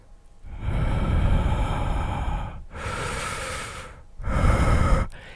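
A person's voice imitates heavy, laboured breathing, three long rasping breaths with short pauses between, loud and close with no words spoken.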